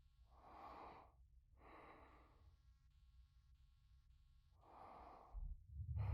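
A video game character breathes inside a ship, slow and close, with three breathy exhalations spaced a couple of seconds apart over a low hum and a rumble rising at the end.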